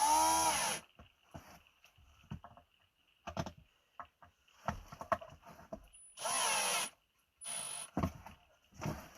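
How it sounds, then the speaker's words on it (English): A power drill on a low setting driving screws into a DIY art caddy, with short bursts of whirring separated by pauses, handling clicks and taps in between. "just lightly press the trigger if you're going to use a drill"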